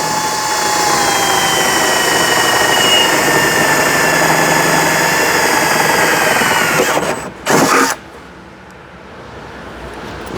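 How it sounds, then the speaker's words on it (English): A power drill bores out a hole during a ladder install on a fifth-generation Toyota 4Runner, whining loudly and steadily for about seven seconds before stopping, followed by a brief burst and then quiet. "we'll go ahead and drill this guy out again"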